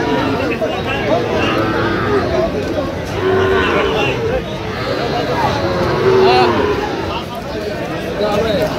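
Cattle at a busy Dhaka cattle market where Sahiwal bull calves are sold moo in long, low calls, two standing out, over a constant babble of crowd talk.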